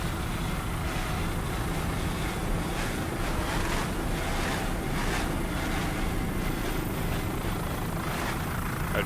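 A 30-foot AMT offshore racing powerboat competes in Superstock at the Miami Offshore Grand Prix, its engine a steady, loud roar under wind and water noise, with no speech.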